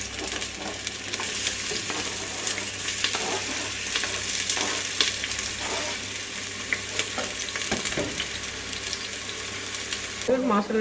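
Small onions sizzle in a pan for achar gosht, a steady close frying hiss with occasional stirring scrapes throughout.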